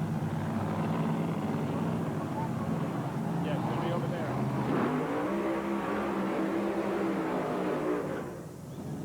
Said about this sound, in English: The engines have started.